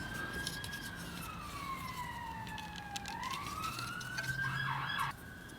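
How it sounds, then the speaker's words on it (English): A siren wails past outside, its tone sweeping down and then back up in long glides over steady background noise, fairly loud and close before it cuts off near the end. "Bloody sirens."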